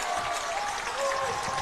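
A football stadium crowd at a Hancock County versus John Hardin high school game cheering in a loud, broad roar, with an announcer talking over it.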